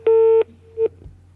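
A few electronic telephone dialing tones sound loud and close: one long steady tone, a short gap, then a second briefer tone, with a faint low hum underneath.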